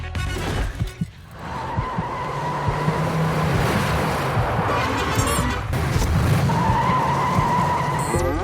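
Tires squeal in a long sustained skid from a car in a film clip shown during a PS3 Buzz quiz game, loud and continuous after a brief rough start, wavering in pitch with engine rumble underneath.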